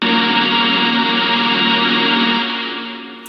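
A loud, distorted electronic synth chord for a mid-tempo/future bass track sustains, shifting once to a new chord near the end before tapering off; no talking.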